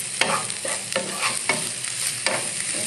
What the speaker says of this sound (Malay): kita nak buat apa kata shallow fry ataupun tumis separuh masak